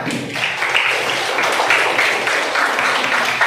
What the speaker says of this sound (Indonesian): Berikan tepuk tangan yang meriah dulu untuk kelompok 1